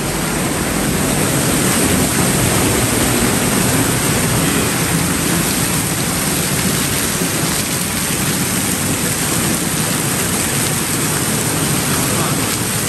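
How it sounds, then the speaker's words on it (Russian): Steady, heavy tropical rain pours down continuously, a dense hiss of drops hitting surfaces close by, with no other sounds breaking through. "Сейчас вам покажу тропический дождь на этот телефон."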